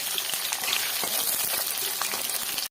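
Potatoes and green chillies fry in hot oil with a dense, steady crackle and hiss that runs unbroken at close range, then stops abruptly.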